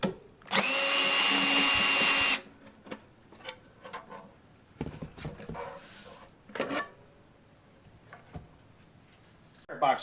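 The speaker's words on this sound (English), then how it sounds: "You will use a number 20 Torx driver for this too." A power driver fitted with a number 20 Torx bit whirs loudly for about two seconds while removing screws from a solar inverter's wire box cover, followed by quieter clicks and handling noises.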